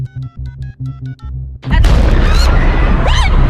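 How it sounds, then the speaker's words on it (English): A loud explosion sound effect in a Family Guy cartoon bursts in suddenly after a short stretch of rhythmic tones, followed by a sustained roaring rumble with debris noise. "A second explosion goes off."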